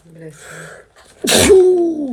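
A single loud, close human sneeze bursts out after a moment of quiet talk, ending in a short voiced tail.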